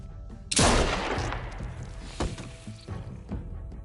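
A single sharp gunshot cracks loudly in a tense Walking Dead game scene, followed by a long decaying reverberant tail and a few fainter thuds and impacts with no talking.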